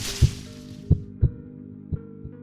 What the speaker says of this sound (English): Whenever it draws closer, the sound of a heartbeat gets louder and faster.